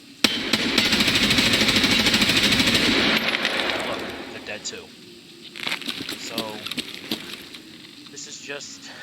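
Automatic weapon fire in the shooter game Escape From Tarkov, a dense rapid burst lasting a few seconds, then scattered shorter shots and rustling movement, with a voice talking alongside.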